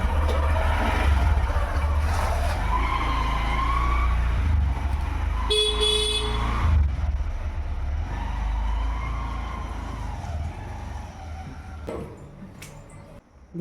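A motorbike carrying a grandmother rides off, its low engine rumble steady and near, with a brief horn toot midway, then the sound thins and fades toward the end.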